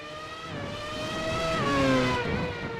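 Formula race car engines from an iRacing Formula i Spanish Grand Prix broadcast whine through high revs, pitch rising and falling as several cars pass close by, loud and steady without talk.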